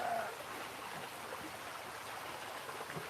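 Creek water flows steadily beside an outdoor cooking fire, a soft, continuous broadband wash at low level with no talk over it.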